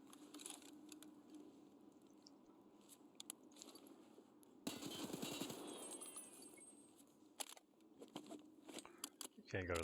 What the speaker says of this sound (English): Ten rounds are really nothing for an FAL.